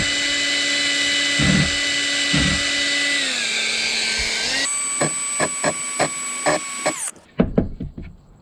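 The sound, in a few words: power drill drilling a countersink for a screw head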